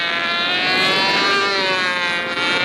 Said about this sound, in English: You can hear the jets in the background going up.